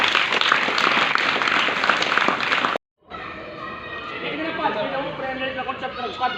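A burst of audience applause at an anti-drug street play, dense clapping for a few seconds, then a sudden cut to people talking and chattering.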